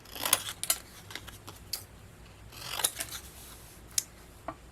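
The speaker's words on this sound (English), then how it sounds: "I'm going to trim it down with my scissors." Scissors trim a gold foil card panel in a series of crisp, quiet snips spaced irregularly, close up in a calm room with no talking.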